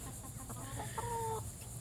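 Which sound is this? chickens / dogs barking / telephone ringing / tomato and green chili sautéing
chickens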